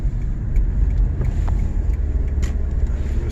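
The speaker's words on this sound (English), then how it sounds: "Misfiring right now." Low, rough rumble of a 2010 Toyota Corolla engine misfiring on cylinder 4 at full throttle, an uneven stumbling drone heard from inside the car, loud and steady with faint knocks.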